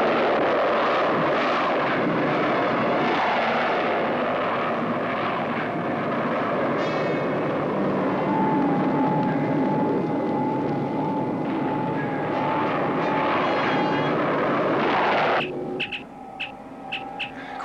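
A spaceship launching in a 1977 science-fiction film: a steady, dense roar like jet engines rumbling continuously for over fifteen seconds, with a faint whining tone partway through, ending as the roar drops and clicking, beeping electronic sounds take over.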